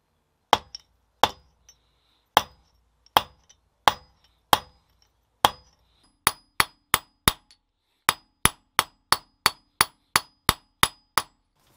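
Sharp metal hammer blows on a silver bar being stretched, struck one at a time at first, then in a faster, steady run of ringing strikes, close and loud with no talk.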